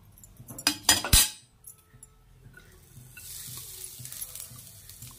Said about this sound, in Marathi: आता ह्याच्यात मी ओलं खोबरं टाकत आहे।